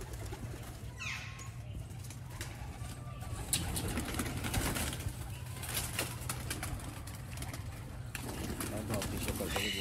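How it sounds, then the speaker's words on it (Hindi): Pigeons coo softly among the flock while people talk nearby, the low murmuring calls running under steady conversation and background noise throughout. "वड्डा कबूतर है जी ये पट्ठा है"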